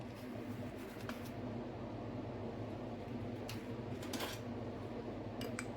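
A salad being stirred with ready-made dressing in a bowl, with soft utensil clinks and scrapes that keep going over a steady low background hum.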